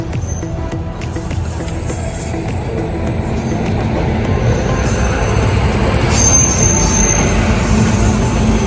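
The Awadh Express rumbles steadily into a station, loud and close, with a continuous low roar of wagons and high wheel squeal near the end.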